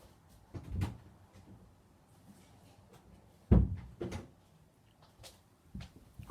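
Indoor door opened for a cat, faint and distant: a few soft knocks and thuds, one sharper bump mid-way, over a quiet room hum.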